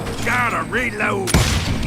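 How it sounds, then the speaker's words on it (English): A gun reloading in the western shooter Call of Juarez Gunslinger: a short run of clicking, ratcheting mechanical sounds, ending in a sharp metallic clack, with a voice talking over it. "gotta reload"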